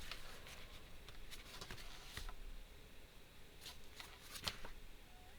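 Quiet paper crinkling and a few soft creases as a paper card is folded and pressed even for a butterfly booklet craft card, sparse light taps over a faint room hiss.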